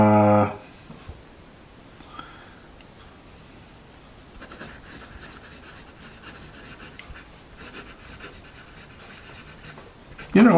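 A store-brand pencil scratches steadily across paper in a long run of soft, slightly gritty strokes, close up, with a brief voice at the start and again at the very end.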